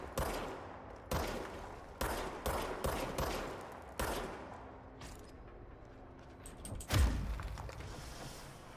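Gunfire in the video game Control: a run of sharp, loud shots comes roughly once a second, each trailing off in an echoing tail, with sparser, quieter shots and one heavy blast near the end.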